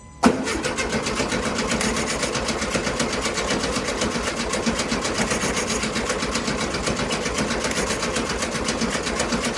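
The engine of a 1972 VW Beetle is cranked by the starter, giving a loud, steady, rapid churning rhythm that carries on for the full stretch after a sharp click at the start.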